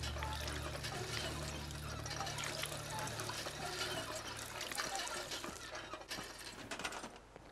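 Water pumped in the video game Fallout 4, a steady rushing, splashing flow that runs continuously at moderate volume with no voices over it.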